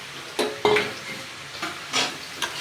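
Fish heads drop into hot oil over a cooked potato and pumpkin curry, hissing and sizzling with several sharp bursts as a utensil stirs and scrapes the pan, close and without voices.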